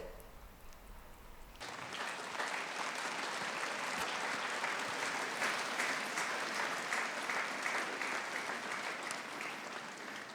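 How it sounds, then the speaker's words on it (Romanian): An audience at a Catholic youth festival gathering breaks into sustained applause, steady dense clapping that rises after a quiet start and keeps going with no voices on top. "voi trebuie să aplaudați pe Isus și Maria pentru asta."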